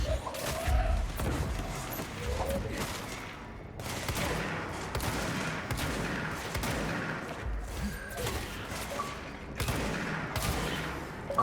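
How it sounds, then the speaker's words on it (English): Weapon fire and blasts in the game Control, a dense run of shots and impacts with a few brief pauses, loud and continuous throughout. "no fair shooting rockets"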